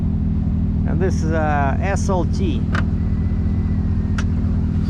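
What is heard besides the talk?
2023 GMC Yukon engine running after remote start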